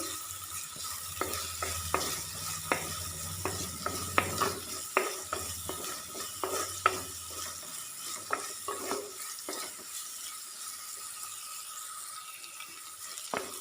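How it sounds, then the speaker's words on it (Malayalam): Onions are stirred and sautéed in a pan for jackfruit thoran, with a soft sizzle under repeated scraping strokes of the spoon, faint and close, and no talking. "എല്ലാം കൂടെ നന്നായിട്ടൊന്ന് ഇളക്കി കൊടുക്കാം."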